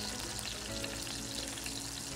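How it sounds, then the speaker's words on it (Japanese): Food sears in a pan to brown its surface while a pasta dish is being cooked, producing a steady, continuous sizzle that stays loud and even throughout. "焦げ目をちょっとつけていくような感じで火を入れていきますよ"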